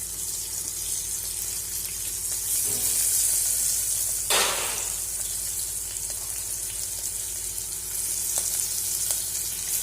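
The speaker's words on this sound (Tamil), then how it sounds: "வெங்காயம் போட்டாச்சு. இப்போ இது கொஞ்சம் வதங்கட்டும்." Chopped onions sizzle steadily in a hot pan while cooking paruppu sadam, a constant close hiss with a brief louder splash of stirring or added ingredients, no talking.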